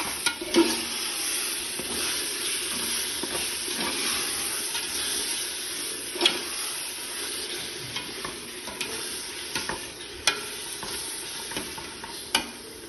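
Yogurt and squeezed lemon juice being stirred into a mix in a home kitchen, a soft wet churning with scattered spoon clicks against the bowl, close and fairly quiet, no voices.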